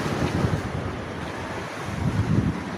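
Strong wind buffets the microphone in a steady, heavy rush, with surging gusts and a constant broadband roar, no voices.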